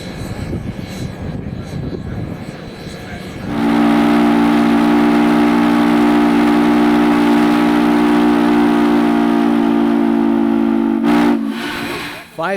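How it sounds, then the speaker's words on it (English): US Sugar Express steam locomotive 148 sounds a loud, sustained three-chime whistle from Norfolk and Western J Class 611, a long steady chord held for several seconds after quieter background noise, then cut off with a brief burst. "the deafening sound of the 148 blowing the long bell 3-chime whistle from Norfolk and Western J Class number 611"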